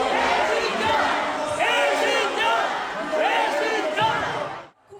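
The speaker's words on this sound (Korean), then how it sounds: "행사장에선 특정 후보를 향한 야유를 쏟아내며 지지층 간의 신경전이 벌어졌는데" Crowd jeering at a Korean political party rally, a dense roar of many voices with shouts and whoops swelling in waves, close and loud throughout.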